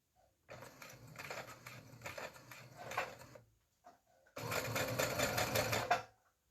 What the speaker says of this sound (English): short sides I'm going to sew together. And I'm just using a 1/4 inch seam allowance